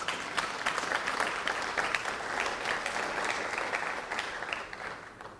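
Audience applause at a lecture on the health effects of electromagnetic fields, a steady dense crowd clapping held at moderate level throughout, fading slightly near the end.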